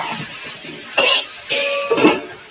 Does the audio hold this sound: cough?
yes